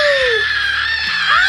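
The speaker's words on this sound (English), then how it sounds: "we can't be screaming that much in this episode" People at a wrestling event scream and squeal excitedly, loud high-pitched overlapping shrieks close by with a quick laughing edge, lasting the whole short moment.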